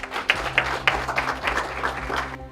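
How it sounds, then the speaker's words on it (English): An audience at a stock exchange opening bell ceremony claps in a dense, lively burst of applause that holds steady for a couple of seconds before trailing off. "Please give her a round of applause."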